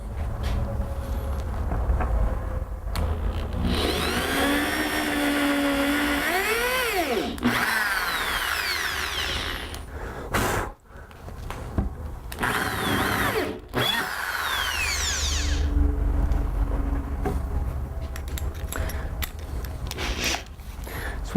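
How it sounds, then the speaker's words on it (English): A power drill whines loudly through long bursts, pitch rising and falling as it bores into wood, with short pauses between runs. "again, we're going to pre-drill."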